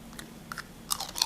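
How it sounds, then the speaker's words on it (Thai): Crispy Thai dok jok flower cookie is bitten close to the mic, giving two or three quick, dry crunches in a quiet room. "เสียงกรอบชัดเจนนะคะ"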